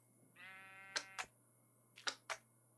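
A single sheep bleats in Minecraft, a short, clear, wavering cry, followed by several sharp clicks in two quick pairs against a quiet background.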